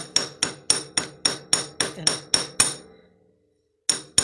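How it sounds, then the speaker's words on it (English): A chasing hammer pounds wire on a steel bench block while earrings are made, ten sharp, ringing metallic strikes in a steady rhythm, then a pause and two more close blows. "just take my chasing hammer"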